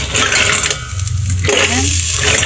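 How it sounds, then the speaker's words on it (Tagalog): Fresh mussels tumbling into a cooking pot for a tinola broth with malunggay, a few clattering shell knocks and rattles up close, followed by sizzling and bubbling in the pot. "ilagay na natin yung ating tahong"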